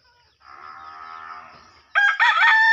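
Chickens, with chicks nearby, call from a farmyard. A thin, drawn-out squawk is followed by a louder burst of crowing-like clucks at close range, with no voices present.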